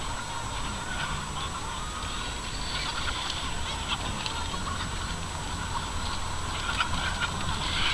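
A large flock of about 5,000 chickens clucks and squawks in a dense, continuous chatter on a farm in Comilla, many birds at once filling the background with no talking.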